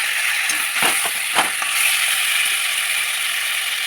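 Food frying in a pan with salt and being stirred, a steady soft sizzle with a few scraping knocks from the utensil early on, close by and alone.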